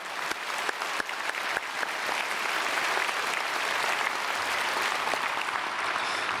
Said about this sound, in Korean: 우리 여선교회 합창단 박수로 축복하겠습니다